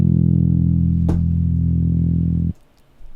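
Dry ambient bass tone with no chorus effect, a steady sustained low note held loud for about two and a half seconds, a brief pluck or click partway through, then cut off into near silence.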